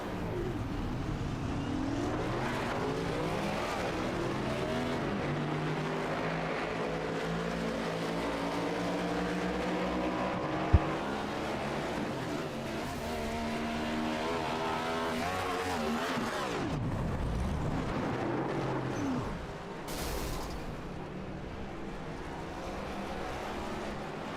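Gen 7 Cup race cars roar around Daytona in a racing video game, with sustained engine drones rising and falling in pitch as cars pass in a pack, continuous and loud.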